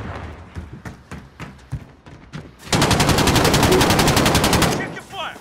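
Sustained automatic machine gun fire in a team deathmatch video game, a loud rapid burst lasting about two seconds after a stretch of scattered thumps and footsteps, then trailing off.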